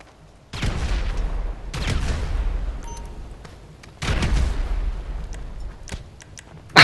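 Grenade blasts in GTA 5 Online burst out as several heavy, booming explosions in quick succession, each with a rumbling tail, amid gunfire-like crackles.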